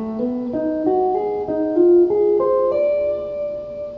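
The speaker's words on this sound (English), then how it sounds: "So the whole thing ascending sounds like this." An electric guitar plays a lick ascending, a run of legato notes stepping upward in pitch, each smoothly joined, before the last note rings out alone.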